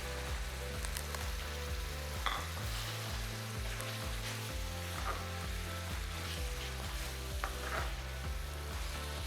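About 400 grams of boneless chicken fries in a pan with a steady, dense sizzle and crackle that runs throughout, over a faint low hum.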